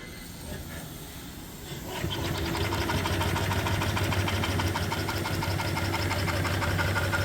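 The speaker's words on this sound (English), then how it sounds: "And by the way, I'll run the engine." An antique off-grid steam engine driving an overhead line shaft starts up and settles into a steady, rhythmic chuffing and mechanical knocking, close and continuous with a hissing undertone.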